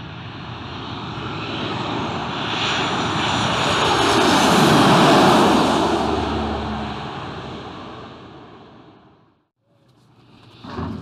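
A propeller airplane's engine drones overhead, swelling to a loud peak as it passes close and then fading away, with the sound dropping nearly to silence near the end.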